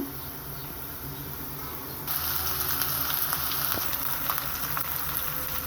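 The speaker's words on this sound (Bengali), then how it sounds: "এখন আমি এগুলাকে ভালো করে নেড়ে ছেড়ে ভাজা করে নিব।" Chopped onion, green chili and potatoes fry in a pan, a continuous crackling sizzle that jumps louder midway as more food hits the hot oil, with small scrapes of stirring.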